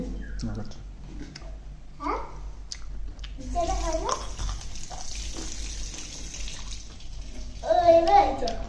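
Tap water runs steadily as hands are washed with soap at a sink, with a child and an adult talking over the flowing water throughout.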